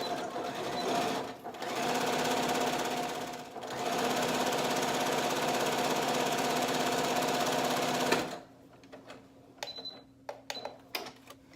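A sewing machine runs a single straight stitch along fabric for a dog snood, a steady close mechanical whir for about eight seconds before stopping, followed by a few faint clicks and handling taps.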